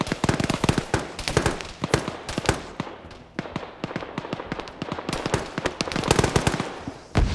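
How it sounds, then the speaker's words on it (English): Gunfire in a multiplayer military shooter game, a continuous string of sharp close shots and bursts with no pauses, loud and crackling, almost no talk over it. "You got Jack firing down the street here."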